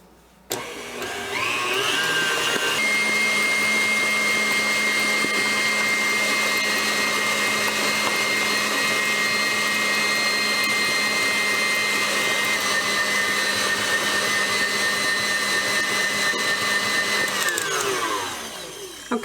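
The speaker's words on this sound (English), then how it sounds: "I'm going to turn the mixer back on, and we're going to whip in our baking powder and our sugar" Electric mixer whipping baking powder and sugar for a pecan pie, whirring up to speed and holding a steady high motor whine for about fifteen seconds before winding down and stopping.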